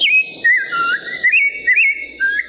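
A recorded primavera songbird plays as a test signal: a string of clear, high whistled phrases rising and falling, repeated in short bursts over a faint hiss, with no voices.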